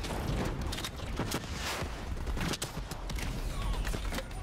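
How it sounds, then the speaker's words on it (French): A rocket launcher fires in the shooter game Call of Duty: Black Ops 3, with loud booming blasts and rumbling detonations layered in dense, continuous battle noise. "C'est toi qui tire en lance-roquette là?"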